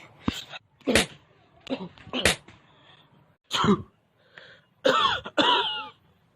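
Several sharp coughing and sneezing bursts, close and loud, spaced irregularly with short pauses between them and no other sound around them.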